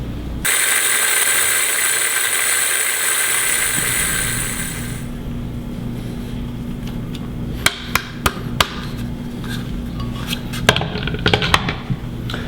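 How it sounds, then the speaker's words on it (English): Seeds being ground into a fine powder in a blender, a loud steady whirring grind for about four seconds that then winds down, followed by several sharp knocks and taps. "let's get these seeds blended into a fine powder"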